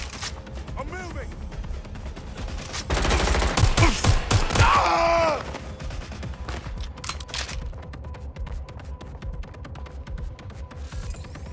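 Gunfire in the video game Watch Dogs Legion crackles as rapid bursts and scattered shots, heaviest in a loud dense volley midway, with game characters shouting and talking throughout.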